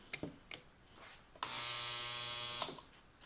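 A homemade 240-volt spot welder fires on its electrodes, giving a loud, steady electrical buzz that holds for about a second before cutting off, after a few faint clicks.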